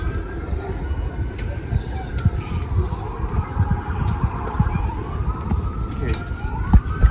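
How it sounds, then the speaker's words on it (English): Emergency vehicle sirens wail on a crowded Las Vegas street, their rising and falling tones sweeping steadily over a low rumble of traffic and crowd noise. "All right, I hear the sirens."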